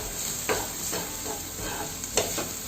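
Maggi noodles are stirred with chilli powder and chicken masala in a hot pan over a low flame: a steady sizzle of frying with periodic scraping strokes of the spoon, close up and without voices.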